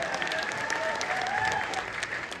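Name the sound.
audience applause at poetry gathering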